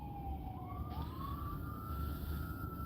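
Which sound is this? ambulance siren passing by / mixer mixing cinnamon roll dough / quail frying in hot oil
ambulance siren passing by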